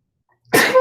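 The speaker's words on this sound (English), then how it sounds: "I just sneezed." A single sharp sneeze bursts out during an audiobook narration after a moment of silence, loud and close.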